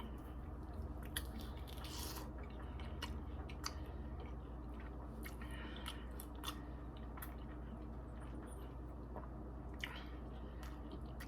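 Close, soft chewing of juicy orange segments, with wet squishing and small crisp bites spread over several seconds against quiet background hum.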